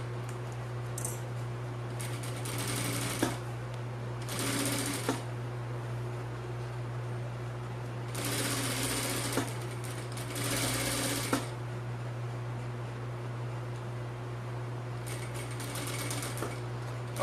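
Sewing machine stitching the two parts of a beach bag together, running in several separate bursts of steady whirring over a constant low motor hum, fairly close.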